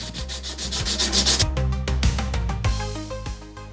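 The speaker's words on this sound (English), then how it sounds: "After it had dried, I rubbed it back with some 80 grit sandpaper." Hand sanding of a Thule Polar 100 car roof box with 80 grit sandpaper, steady scratchy rubbing strokes repeating rhythmically and close, alone without talk.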